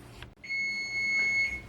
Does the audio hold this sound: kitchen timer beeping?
yes